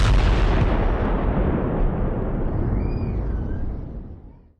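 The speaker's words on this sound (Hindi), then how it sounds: "रात के वक्त आईडीएफ ने एयर स्ट्राइक कर लेबनान में हिजबुल्लाह" An Israeli IDF air strike on Hezbollah bases in Lebanon at night sets off a loud, deep rumbling blast that rolls on heavily and then slowly fades out, with no talk.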